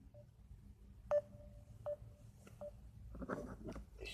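Telephone keypad tones from a phone call: a few short, distinct dialing beeps, then a brief ringback-like tone, followed by rustling and faint movement noise.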